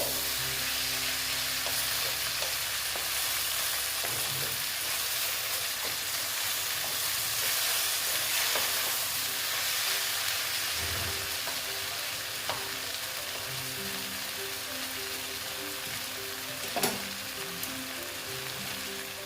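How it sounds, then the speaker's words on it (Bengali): Dried fish sautéing in a pan, a continuous soft sizzle and crackle with occasional spoon stirs and scrapes, steady and moderately quiet throughout. "দেখো একটু কষিয়ে নিচ্ছি আবার শুকনো মাছের সঙ্গে"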